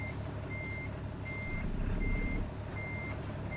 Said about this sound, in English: I'm hoping this isn't too loud on the game with my backup alarm